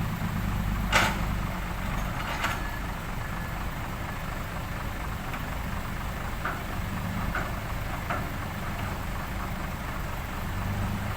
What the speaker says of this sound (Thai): รถไถก็จะบรรทุกไม้ออกไปนะครับ